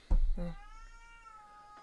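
A house cat lets out a single loud, drawn-out meow close by, starting with a sharp chirp and trailing into a long wavering cry before falling silent.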